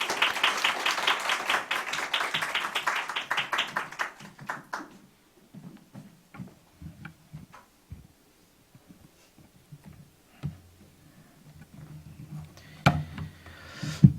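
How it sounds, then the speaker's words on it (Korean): A church congregation claps in welcome for a missionary at a Sunday service, with dense applause for about four seconds that fades into scattered claps and small noises. "우리 박수로 환영할까요?"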